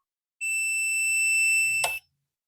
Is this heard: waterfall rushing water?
no